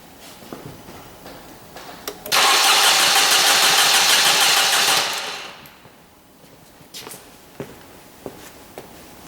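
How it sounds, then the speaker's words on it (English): A car engine deliberately disabled so it cannot start is cranked by the starter for a sustained stretch of about two and a half seconds, a loud, rapid, even whirring chug that then stops, with quieter clicks and handling noises before and after. "I've disabled the engine so it won't start, so it will crank for a longer period of time"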